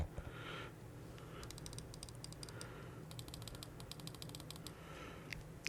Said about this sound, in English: The clicks are satisfying.